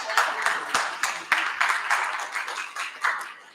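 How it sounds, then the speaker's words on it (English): Applause from an audience at an evening program in a poster museum, a steady patter of many hands clapping at moderate distance with light emphasis throughout, no voices over it. "Usually people clap at that part."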